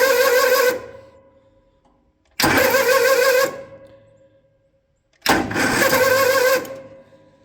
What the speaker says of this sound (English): I don't think there's a lot of oomph in the starter, and it seems to stop on the compression stroke.